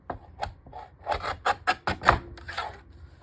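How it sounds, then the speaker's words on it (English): A loud paper cutter slices a strip of paper for journal cards with a burst of sharp, rasping strokes in quick succession, close up and with no voices. "Sorry, I know that cutter is so loud."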